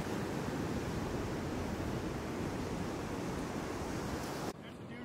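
Ocean surf rolls steadily at Playa Hermosa, Costa Rica, a continuous broad wash of breaking waves close by that drops to a quieter hiss near the end, with no talking over it.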